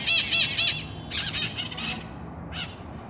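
Parakeets squawking in a park in three sharp, harsh bursts, followed by a noisier chatter of calls and one last brief squawk, fairly close over a low background hum.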